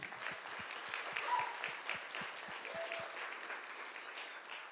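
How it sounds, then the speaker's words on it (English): Steady applause from an audience, many hands clapping together at an even level from start to finish, with no voices over it. "Let's give Dr. Washington and his team a round of applause"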